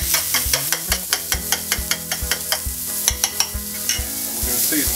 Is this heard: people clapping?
no